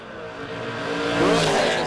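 A 1992 Dodge Dakota and a 1967 Camaro launch at a drag strip, engines rising into a loud, swelling roar with a climbing whine as they pull away.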